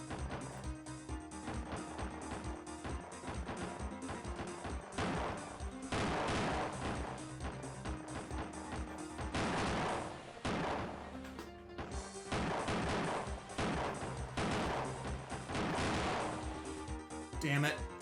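Dense video game gunfire, rapid machine-gun bursts and explosion-like blasts firing almost nonstop at close range, with a brief lull near the middle before the barrage resumes.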